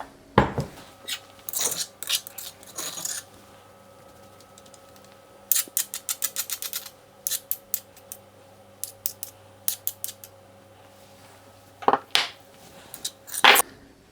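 Cheese is grated over a basil-coated artichoke in bursts of crisp metallic scraping strokes, close and fairly loud, separated by quiet pauses.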